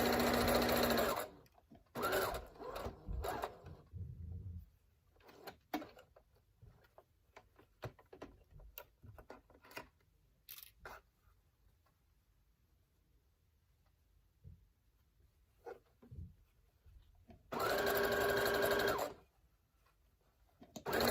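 A sewing machine stitches a fabric face mask with a rapid whirring run at the start. Quieter ticks and handling noises follow, then another sustained burst of stitching near the end. Everything is close and fairly soft.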